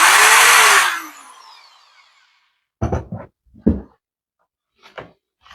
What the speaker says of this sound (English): I have my power drill.